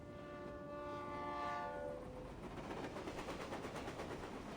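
A video-game train sounds a long, sustained horn blast that fades, followed by the rhythmic rumble and clatter of the cars rolling past, heard alone without talk.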